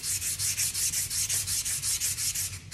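A painted craft project is sanded by hand in quick regular back-and-forth strokes, a close, dry scratchy rasp repeating about five or six times a second, steady and alone with no talking.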